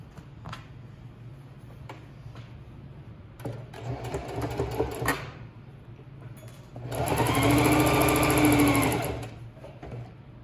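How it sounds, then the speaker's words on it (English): A sewing machine back stitching an apron: a few short stitching bursts with pauses, then a sustained loud whirring run of a couple of seconds before stopping, all close and without talk. "I'm just starting with my back stitch. Do a nice strong back stitch"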